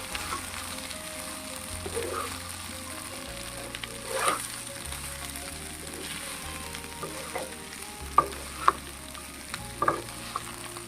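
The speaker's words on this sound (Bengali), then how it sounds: "এরপর ভালো করে মাখিয়ে নেব" Sago, mung dal and vegetables being mixed in a pan for a Bengali village-style dish, with a steady soft sizzle and scattered scraping stirs, a few sharper clinks near the end, no voices.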